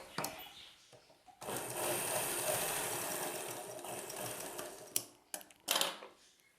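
A sewing machine stitches a folded fabric patch piece for a silk saree blouse, running in one sustained whirring burst after a few clicks, then stopping with a handful of sharp mechanical knocks, close and clear.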